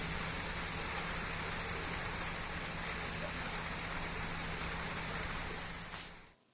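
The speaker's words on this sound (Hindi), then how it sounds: "बिल्कुल पैक हो गया है और खूब झमाझम बारिश हो रही है" Heavy early-morning rain pours down in a dense, steady hiss with a low hum beneath it, continuous and fairly close before fading out at the very end.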